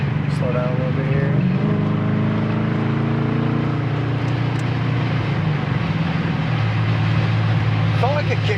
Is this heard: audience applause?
no